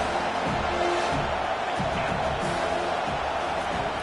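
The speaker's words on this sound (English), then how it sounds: "This crowd bringing the energy and noise early." At a football game, a stadium crowd gives off a dense, steady roar from all around, loud and continuous with no single standout cheer.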